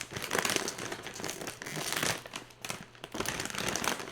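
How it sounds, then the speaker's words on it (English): Loud, continuous crinkling of a plastic snack bag, close up, in irregular bursts. "oh god, these bags are loud."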